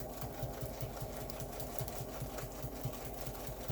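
A domestic sewing machine quilts a pantograph pattern through layered quilt fabric, its needle running in a fast, even mechanical patter, steady and fairly quiet throughout.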